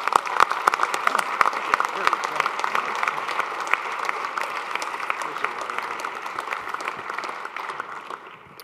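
Audience applause welcoming the speaker to the podium at a Metrolinx event, sustained dense clapping from a sizable crowd that holds steady and fades out at the end.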